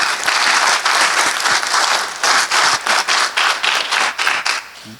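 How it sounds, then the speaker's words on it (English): An audience at a school district pitch competition breaks into sustained, loud applause, dense clapping for several seconds that thins into scattered claps toward the end. "How about one more round of applause for our first team?"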